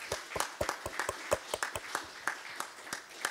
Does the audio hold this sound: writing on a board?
no